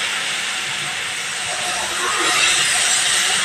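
Coconut milk poured a little at a time into hot masala that has been fried until the oil separates, for a Bengali prawn malai curry, gives a loud, steady, broadband sizzling hiss that swells slightly toward the end.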